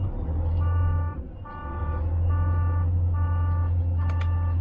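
A Volvo FH16 550 truck sounds repeated reversing beeps in short evenly spaced bursts over a steady low engine rumble, with a brief dip partway through and a sharper chirp near the end.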